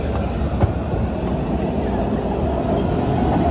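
A DC Metro automatic train runs at full line speed in a 75-mile-an-hour zone past Fort Totten toward Tacoma, with a steady, loud rumble and rushing roar inside the car and a faint click or two, no voices.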